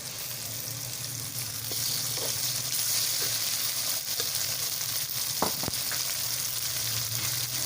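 Minced meat sizzles as it goes into a pan of frying dal, a steady close crackle and hiss with a few faint clinks and stirring knocks, with no voices.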